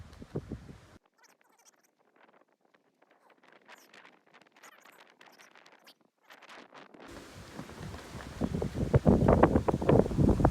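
Wind gusting past 25 miles an hour buffets the microphone, starting with a short rumble, dropping to quiet rustling, then building to loud, sustained roaring near the end.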